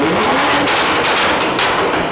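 A stage 3 tuned BMW M140i revving hard with its exhaust flaps stuck open, a raspy roar with bursts of crackle, close and continuous.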